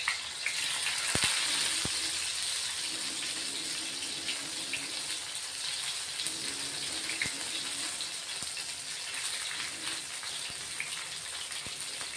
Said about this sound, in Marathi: आपण आता मिरच्या त्याच्यात तळून घेणार आहे.